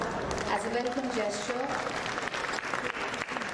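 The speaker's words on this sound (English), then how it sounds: "requesting you all to please give a very hearty round of applause" A ceremonial audience applauds in welcome for government ministers at a museum expo, steady dense clapping filling the room while an announcer keeps speaking over it.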